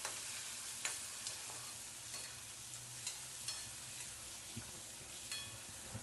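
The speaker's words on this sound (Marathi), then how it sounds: "कांदा तेलामध्ये परतलेला आहे. नंतर त्यामध्ये टाकून देते एक मी टोमॅटो पण चिरून घेतलेला आहे ते पण यामध्ये टाकून देते" Chopped onion and tomato frying in oil in a pan, a steady low sizzle with occasional stirring clicks and scrapes, faint and close, with no talking.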